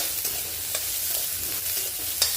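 Onion, garlic and ginger sizzle steadily in hot oil while being stirred, a dense close frying hiss broken by occasional scrapes of the spoon.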